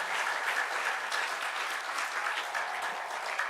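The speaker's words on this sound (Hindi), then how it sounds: "आप तालियां मरी मराई बजा रहे हैं" An audience at a Hindu spiritual discourse on Shraddha claps steadily, a dense, even wash of many hands that holds at one level for a few seconds with no speech over it.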